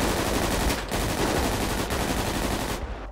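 Rapid automatic gunfire in the GTA 5 video game rattles continuously, dense and loud, with a couple of short breaks between bursts.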